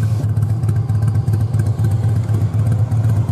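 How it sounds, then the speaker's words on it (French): A Harley-Davidson motorcycle engine rumbles close and loud with a steady, pulsing low throb and some mechanical clatter, running alone without any voices. "écoute comment c'est beau le bruit des Harley."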